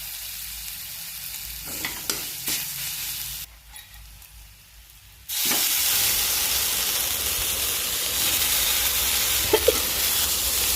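Eggplant is sautéed in a pan with turmeric and asafoetida, with some stirring scrapes, a brief lull, then a loud, steady sizzle that runs on without pause.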